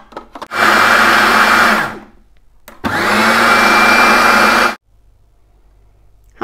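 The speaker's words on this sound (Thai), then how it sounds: "แล้วเราก็มาปั่นกันเลย" A kitchen blender whirs loudly through a thick, creamy salad dressing made with mayonnaise and oil, running in two long, steady bursts separated by a short pause.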